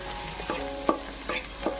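Egg frying in a pan for kothu parotta, dry-scrambled before any gravy goes in: a steady low sizzle with a few sharp scraping stirs of a spatula against the metal, close and without any talking.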